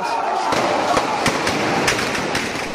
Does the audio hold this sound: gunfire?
yes